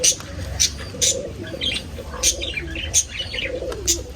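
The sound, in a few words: pair of caged pet birds chirping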